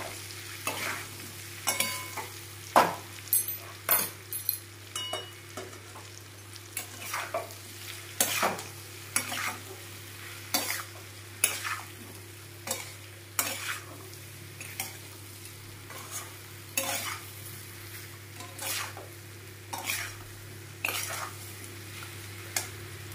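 Mango pickle with turmeric is stirred in a frying pan, a utensil scraping the pan in regular strokes over a low sizzle and a steady background hum, close by.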